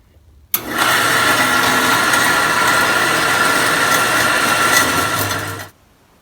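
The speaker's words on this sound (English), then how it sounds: "I've got a metal cutting bandsaw here. Makes quick work of the ends of these caps." Metal-cutting bandsaw slicing through the ends of old capacitors: a sudden start, then a loud, sustained grinding whine with bright metallic overtones for about five seconds before stopping abruptly.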